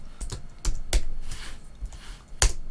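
Keys clack on a computer keyboard as Java code is typed, a run of irregular close taps with a few louder strikes and no talking.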